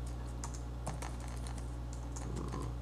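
Keys on a computer keyboard are typed in a quick irregular patter of light clicks, steady for a few seconds over a constant low background hum.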